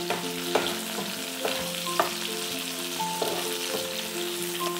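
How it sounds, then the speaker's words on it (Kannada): Onions fry in hot oil for dal fry, giving a soft, steady sizzle. A spoon stirs and knocks against the pan every second or so. "ಆ ಈರುಳ್ಳಿಯನ್ನು ಅದರ ಒಳಗಡೆ ಹಾಕಿ ಒಂದ್ಸರಿ ಕ್ಲೀನಾಗಿ ಈ ರೀತಿ ಮಿಕ್ಸ್ ಮಾಡ್ಕೊಳ್ಳಿ."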